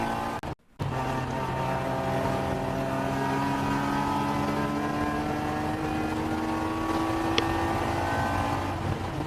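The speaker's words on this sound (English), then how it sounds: "the Hitman car goes flying back by on the front straightaway into turn 1" Race car speeding down the front straightaway into turn 1 at NOLA Motorsports Park during a WRL endurance race, a loud sustained engine roar with rising pitch that carries steadily for about nine seconds after a brief dropout at the start.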